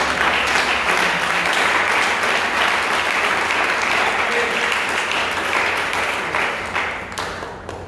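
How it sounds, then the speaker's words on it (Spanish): Loud, sustained applause from a church congregation fills the whole stretch, thick and even, easing only slightly in the last moment. "Yo pienso que Él merece un aplauso fuerte."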